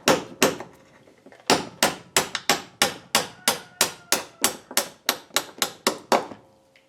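A hammer drives a bullet tool against a wing pin on a Piper Super Cub wing during wing hanging, giving roughly sixteen sharp, loud metallic strikes in a steady rhythm after a brief pause following the first two blows.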